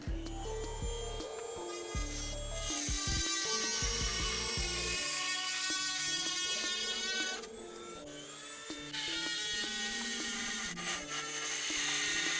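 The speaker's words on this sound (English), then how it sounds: "I'm going to have to do a little bit of Dremel work, kind of open it up right there" A Dremel rotary tool cutting away plastic on an Arrma RC car battery tray, a high whining grind that rises and falls in pitch through repeated passes, close and continuous.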